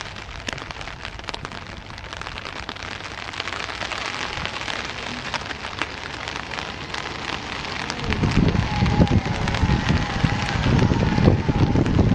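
Rain falls steadily at the Çubuk 2 dam reservoir, where the water level is very low, as a dense hiss of drops striking surfaces close by, thickening into a heavier, louder patter partway through with some wind buffeting.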